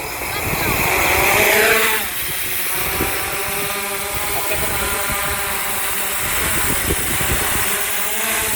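Small drone motors spin up and the craft lifts off, a rising whine sliding up in pitch and then settling into a steady buzzing hum, with voices and noise around it.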